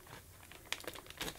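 Scissors snipping and crinkling through packaging while unboxing a new Dyson DC05 Plus vacuum cleaner, a few close, quiet cuts and rustles, with no talk.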